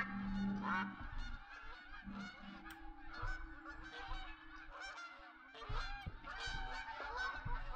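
Flock of geese honking in the hunting video game The Hunter: Call of the Wild, many overlapping nasal calls in irregular bursts, some near and some farther off, with no talk.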